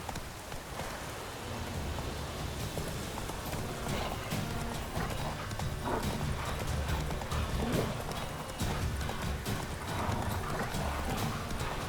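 Roach, the horse in The Witcher 3, gallops with steady rhythmic hoofbeats under continuous rain, with a brief whinny, moderately close and alone without talk.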